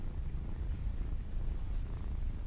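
A kitten purrs while being petted, a soft continuous low rumble heard close and steady throughout, set in a radio drama.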